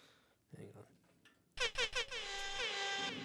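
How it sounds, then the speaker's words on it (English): Air horn sound effect blaring in several short loud blasts followed by a long sustained honk, preceded by brief quieter speech. "Air horn."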